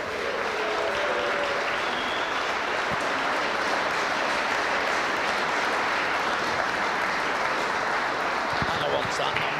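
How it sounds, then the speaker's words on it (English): Sustained applause from an audience welcoming graduates onto the stage at a graduation ceremony, a dense steady clatter of many hands that fills the whole stretch at an even level, with some talk mixed in. "Give them a clap."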